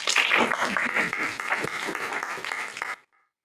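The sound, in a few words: audience applauding to show agreement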